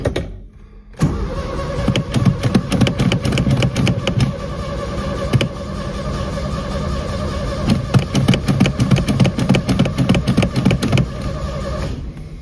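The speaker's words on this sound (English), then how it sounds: "Still not starting. I added some start gas to the carburetor, but maybe I wasn't fast enough." A VW Beetle engine with a carburetor cranks repeatedly without catching, a loud, rapid, rhythmic chugging from the starter that runs almost continuously for over ten seconds, close by.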